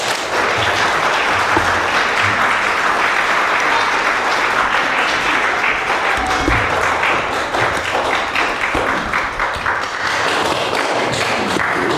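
Audience applause fills a room at a Black History Month leadership brunch, a dense, loud, steady clapping that runs unbroken for the whole stretch.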